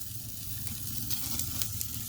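Steak fat sizzles and crackles steadily over flames on an offset smoker, with occasional sharper pops, fairly faint and constant throughout.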